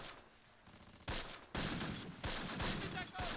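Gunfire in the Close Combat wargame, set at Grafwegen near Arnhem in 1944: bursts of rifle and machine-gun fire crackle in sharp volleys at moderate loudness, getting denser toward the end.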